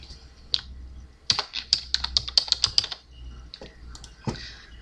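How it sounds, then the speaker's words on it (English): Keys clack on a computer keyboard as text is typed, a close run of quick crisp taps in a burst with a few isolated strokes before and after. "Then you can type the next part."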